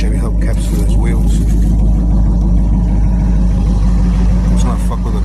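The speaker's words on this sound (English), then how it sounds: "She's running, idle's real nice." A car engine idles steadily on a hot-rod project fitted with 1940s Chevy hubcaps, its low, even rumble running loud and close throughout under some talk.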